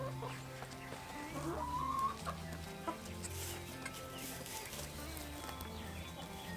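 Chickens clucking around a small chicken tractor on a farm, steady low clucks and murmurs with a brief higher call, continuous and moderately close.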